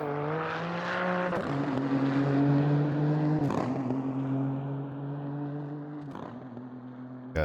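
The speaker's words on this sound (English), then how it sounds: "the upshift sound is really, really nice. That crack and clack out of the exhaust as the ignition cuts." Nissan GT3 race car in the Automobilista 2 racing game, a steady loud engine drone with sharp exhaust cracks at each upshift as the ignition cuts, a few distinct gearchange breaks over several seconds.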